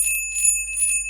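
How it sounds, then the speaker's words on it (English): A bell hanging on a rope gives a brief bright metallic ringing, sharp and near, in a short burst of shimmering strokes. "Oh, the bell went off."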